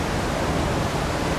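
Waterfall in Mossman Gorge, Queensland, a steady, dense rushing roar of falling water spread evenly across the sound, continuous and fairly loud with no voices.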